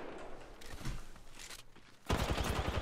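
Gunfire in a video game, heard as a few quiet distant shots early and then a louder rapid burst of firing in the final second, with no talk over it.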